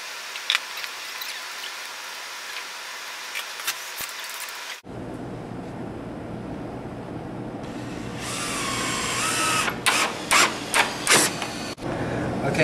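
A power drill drives screws into a 1x3 wooden stretcher bar clamped to a table: quieter handling first, then several short, loud whirring bursts close by toward the end.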